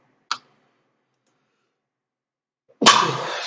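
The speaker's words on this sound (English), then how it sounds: "I cannot stop sneezing." A person sneezes: a brief sharp burst, a pause of silence, then a louder forceful sneeze with a breathy tail, close to the microphone.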